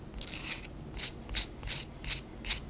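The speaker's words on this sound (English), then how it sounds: "I'm just gonna be filing away that tiny little tab on the ends of the nails and smoothing out the" Plastic press-on nail tips having their small tabs filed away and edges smoothed, heard as a soft scraping rub followed by five short, even file strokes in a steady rhythm, close and quiet with no talking.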